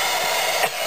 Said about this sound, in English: But we could, as you say, Dougie, we could just use a cold hairdryer, which is what we're going to do